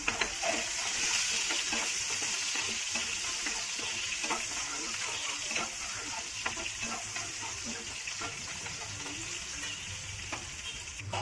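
Onions and white lentils frying in a pan for bitter gourd kulambu, a steady dense sizzle with stirring scrapes throughout, close and alone without talk.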